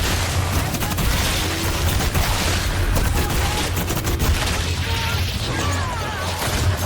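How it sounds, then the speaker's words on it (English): A Wraith supernova in the game Evolve unleashes a dense, continuous barrage of rapid booming blasts and crackling impacts, loud and close, with metallic mechanical clatter throughout and no pauses. "Rock them with the explosion a little bit."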